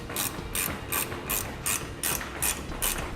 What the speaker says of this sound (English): The large bolts that go through the side of the frame, you'll tighten down with a 15/16 socket.